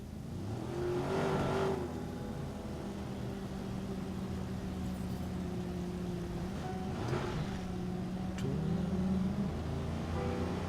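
A taco truck rolling past in Watch Dogs, its engine humming steadily with a rise and fall in pitch as it passes, under soft background music.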